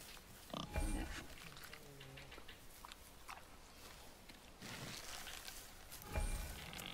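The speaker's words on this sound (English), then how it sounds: "Wild boar's hide is thick." A wild boar in the God of War (2018) game grunts and snorts in short bursts near the start and again toward the end, over a low ambient game background.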